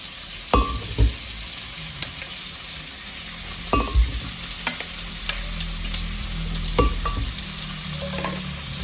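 A steady, crackling sizzle of food frying in a pan, broken by a few clinks and scrapes of a utensil stirring.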